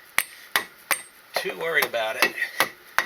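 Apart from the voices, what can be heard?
rubber dead blow hammer tapping out a Corvette differential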